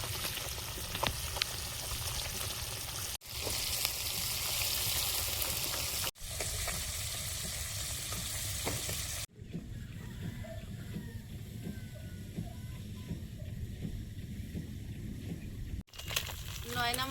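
Nayna fish frying in a pan of oil, a steady crackling sizzle that runs throughout, broken by a few abrupt cuts, while someone speaks quietly over it.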